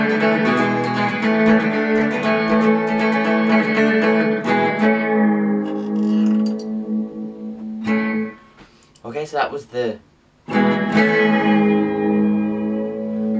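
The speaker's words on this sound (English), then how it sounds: "it's got the very distinctive echoey finish" Electric guitar twanging with a heavy echo effect, a sustained tone ringing out and repeating before a voice speaks briefly, after which the echoing guitar resumes.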